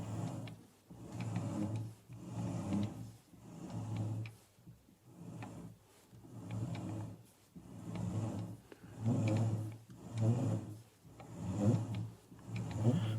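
On a vintage Karger lathe, the spindle is turned by hand for a threading job, producing rhythmic low rumbling strokes that repeat roughly every second and a half, moderately close, with no voices.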